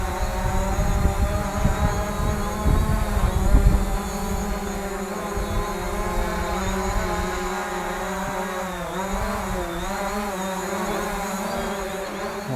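A Hubsan Zino quadcopter drone lifts off and hovers close by, its propellers giving a steady high whine with a rougher rumble at takeoff, then a smooth wavering buzz as it flies.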